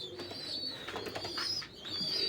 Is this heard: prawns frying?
no